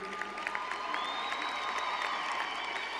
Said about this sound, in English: we give them a round of applause for spending the past year of study with us at Legacy High School